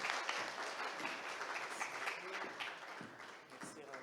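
Audience at a conference talk applauding, a dense, continuous wash of many hands clapping in a room, fairly loud and sustained before tapering slightly near the end.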